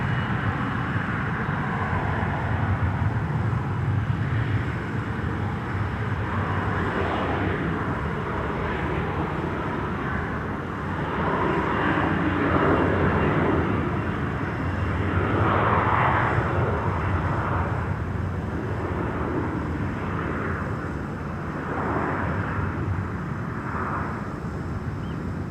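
KLM flight 1337 bound for Wrocław, Poland, rumbles at Amsterdam Schiphol Airport, a steady distant jet engine roar swelling and fading gently over open air.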